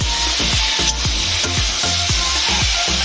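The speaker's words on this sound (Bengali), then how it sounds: "এইভাবে নেড়ে নিতে হবে বেশ কিছুক্ষণ।" Amla pickle cooking in sugar syrup is stirred steadily, rhythmic low scraping strokes roughly twice a second over a bubbling hiss, loud and close with no speech.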